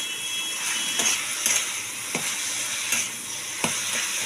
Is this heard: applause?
no